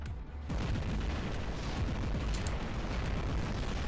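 Rocket fire and explosions in the War Robots video game, heavy continuous booming rumble that swells after a short quieter start and stays loud and dense to the end.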